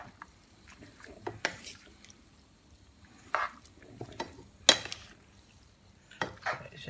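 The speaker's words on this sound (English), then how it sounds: "you're tossing the pasta into the salami and thingy mixture" Pasta being tossed into a salami mixture in a pan makes intermittent scraping and clattering bursts, a few seconds apart, over a quiet background.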